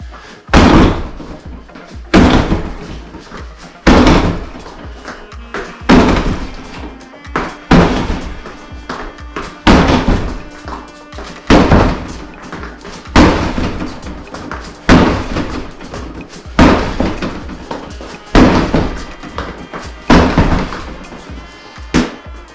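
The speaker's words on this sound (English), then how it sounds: "All right, that's like 20 kicks, not too bad." Side kicks land one after another on a training target, about a dozen heavy thuds in a steady rhythm, each a loud close slam spaced roughly two seconds apart.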